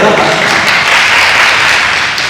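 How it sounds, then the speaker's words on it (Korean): Applause from a church young adults' retreat congregation at an evening worship service, a loud, dense, steady wash of clapping that fills the whole stretch without a break. "박수 한번 쳐주세요"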